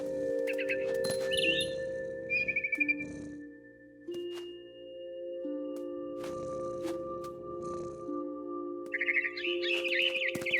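A mother bird in the video game What Remains of Edith Finch chirps in short bursts early on and again near the end, over steady sustained musical tones and a low ambient rumble.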